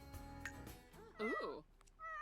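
Cats meow in The Sims 4 video game, a couple of drawn-out, wavering meows, with game sounds and background speech around them.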